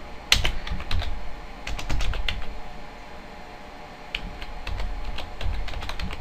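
A command being typed on a computer keyboard into a PowerShell interface: clusters of quick, crisp keystrokes close by, with brief pauses between bursts and no voice.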